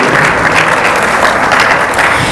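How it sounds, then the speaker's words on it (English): A crowd gives a hearty round of applause at a 2021 LAR installation ceremony. The clapping is loud, dense and continuous throughout, with no gaps. "Let's give them a hearty round of applause"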